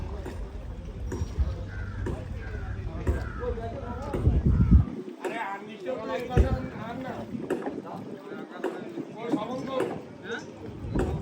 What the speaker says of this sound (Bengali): কত বড় একটা ট্রলার সেটা নদী থেকে একদম রেলপথের দ্বারা ওপরে উঠে পড়ছে